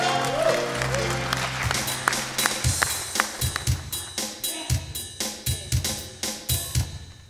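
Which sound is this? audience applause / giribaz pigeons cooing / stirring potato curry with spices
audience applause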